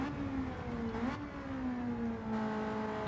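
A Ford Sierra RS500 Cosworth, a roughly 2-litre race car in Gran Turismo 7 at Le Mans, drones at high speed with a strong steady engine tone that shifts pitch as the car changes down a gear, with no talk.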